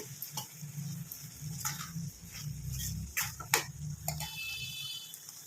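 Eggplant curry (badane kayi palya) sizzles in a pan while a spoon stirs and scrapes it in several close, irregular strokes over a soft, continuous frying hiss, with no talking.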